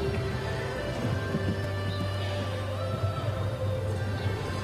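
Show jumping horse wearing a nose net in an indoor arena at a Las Vegas World Cup jumping event, with a steady engine-like drone, occasional hoof thuds and a brief whinny under the constant background noise.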